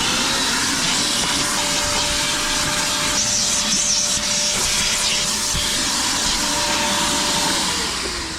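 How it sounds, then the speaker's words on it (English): A vacuum cleaner runs steadily inside a 2024 Ford Mustang GT interior. It gives a loud, continuous whine and hiss with faint rubbing against upholstery, and no speech. "The interior is all vacuumed out now."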